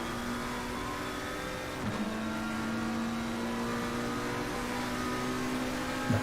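A McLaren and an Audi race close together in a sim racing warm-up at Monza, steady engine whine at high revs with a brief pass near the two-second mark, no speech.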